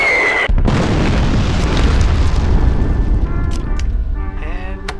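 Artillery in the strategy game Greed Corp fires a single loud, close explosion. A deep rumbling boom decays over several seconds, and light game effect tones sound near the end.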